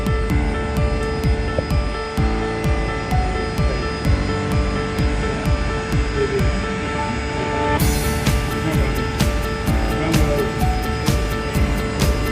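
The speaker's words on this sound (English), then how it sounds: "we've got an Alliance Fokker 100 coming down taxiway Sierra" Alliance Airlines Fokker 100 taxiing at Perth airport, a steady engine drone and whine held close and loud throughout, brightening in the higher tones toward the end.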